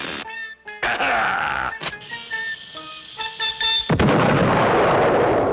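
Cartoon artillery gun firing straight up, with whistling, wailing tones leading into a loud booming blast near the end, no talking.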